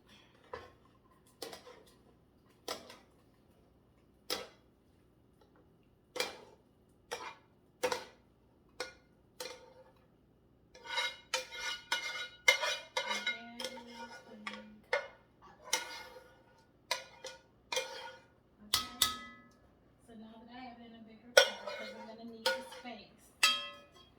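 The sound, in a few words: putting succotash ingredients into a bigger cooking pot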